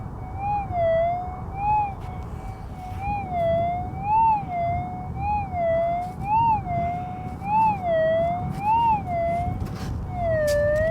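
A Garrett Axiom metal detector sweeps over a buried target on a saltwater beach, giving a continuous warbling tone that rises and falls in steady repeating swells over a soft noisy background.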